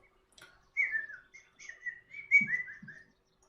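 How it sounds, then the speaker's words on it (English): Birds whistle and chirp near the launch pad at Kennedy Space Center in the X-Plane 11 flight simulator, a handful of clear, rising and falling calls in short phrases over near silence. "So nice to hear the birds up here, and the trees, just hanging out."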